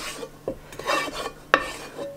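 Bacon pieces, sausages, onion and garlic are stirred in a pot with a spoon, giving close scraping and clinking strokes against the metal, with a few sharper knocks in between.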